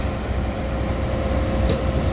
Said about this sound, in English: That's one train that is sitting over there waiting for its turn to go.